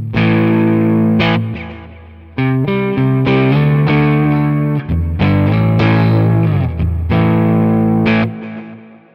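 Distorted electric guitar played through a Quad Cortex modeler with a Fender cabinet impulse response, loud chords and riffs with short pauses between phrases, no talking.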